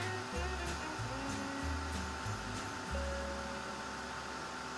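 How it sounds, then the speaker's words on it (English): A heat embossing tool blows hot air over embossed stars on a winter diorama, making a steady, close whooshing roar like a hair dryer that runs without pause throughout. "I am embossing it."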